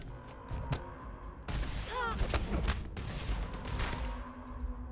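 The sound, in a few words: EM weapon gunfire in the video game Starfield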